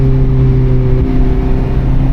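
From inside a Mazda MX-5 ND2 Miata on the move, a steady, loud engine drone with a low hum and road noise continues evenly throughout, with no voices.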